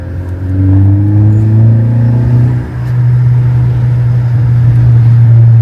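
A 2017 Ford Focus ST with a Borla performance exhaust revs up and settles into a deep, steady exhaust drone, loud and close, with a brief dip before the rumble resumes.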